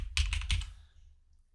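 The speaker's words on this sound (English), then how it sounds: "if you come to Google and just type in ASX sectors" Fast keystrokes on a computer keyboard, entering a Google search, come as a short close burst of taps that fade out within about a second.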